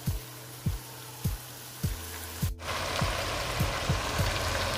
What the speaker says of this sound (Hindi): इसे अच्छे से भूनते हैं।